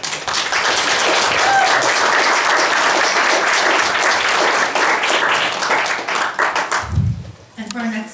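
Loud, sustained applause from the crowd at a third-anniversary remembrance event in San Francisco fills most of the moment, then thins and fades as the clapping breaks up and a voice begins near the end.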